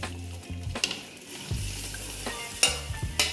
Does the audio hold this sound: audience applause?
no